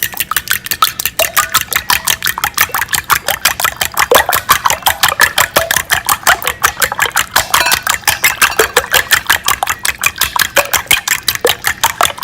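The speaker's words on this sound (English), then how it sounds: "And I'm gonna go ahead and just whisk my eggs." Eggs whisked in a bowl with seasoning make a fast, evenly paced run of close, bright clicking strokes that continues loudly for about twelve seconds without speech.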